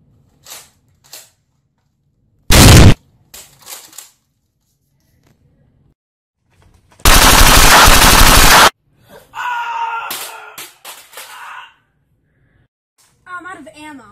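Bursts of rifle gunfire in a game-style action scene, two loud separate volleys, one short and one sustained, with shouting and other vocal sounds between them.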